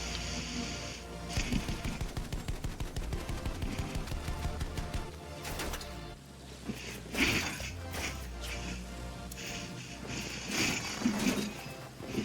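Gunfire in the Battlefield 1 video game during aerial combat, with bursts of rapid shots and loud cracks that come and go over a steady engine drone.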